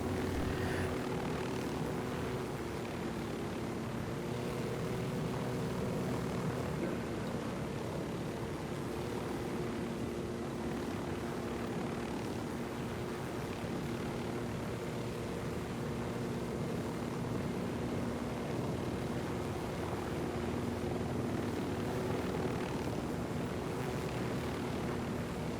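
Helicopter in the video game Ghost Recon Wildlands, armed with rockets and a nose turret, giving a steady, continuous rotor and engine drone at moderate level throughout with no talk.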